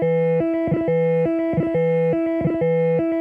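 A circuit-bent Danelectro Corned Beef pedal with its highest note held down, giving a steady buzzy electronic tone that repeats in quick, regular pulses with brief gaps between them.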